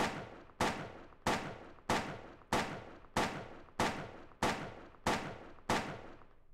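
Ten evenly spaced, sharp shots from a handgun fired by Maria in Silent Hill 2, each with a short decaying tail, loud and close with no talk.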